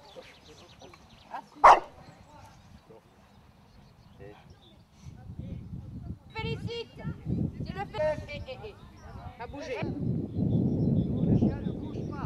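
Dogs at an obedience training session outdoors, with one sharp loud bark early, then scattered yips and whines among people talking, under wind and a low rumble of background noise.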